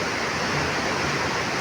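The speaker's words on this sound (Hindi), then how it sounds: "ये इस धारा का नाम है काली नदी" Steady rushing flow of the Kali river, also called Saraswati, a mountain stream in a forested valley ringed by hills, heard close and continuous with no voices.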